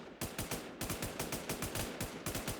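Rapid automatic gunfire in the WarZ survival shooter, a fast run of sharp, evenly spaced shots in short bursts with brief pauses, loud and close, no voices.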